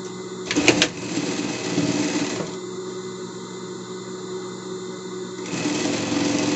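A sewing machine runs a continuous stitching seam on a pet dress, a steady mechanical whir with a brief clatter near the start, close and alone.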